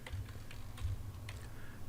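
Fingers typing on a computer keyboard during a PowerShell lab, with a few soft, close key clicks in a short burst, quiet and without talk.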